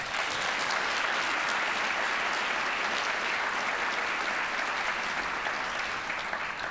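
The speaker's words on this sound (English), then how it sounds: "Please give yourselves a round of applause." Graduating class of 2023 at a business school award ceremony applauding, a dense, steady wash of clapping from a large crowd sustained evenly throughout.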